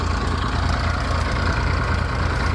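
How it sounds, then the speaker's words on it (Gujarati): A tractor-powered cumin thresher runs with a loud, steady, low engine drone and mechanical churn, continuous and with no talking. "ટ્રેક્ટરને ઓછો દાબ આપે આ થ્રેસર"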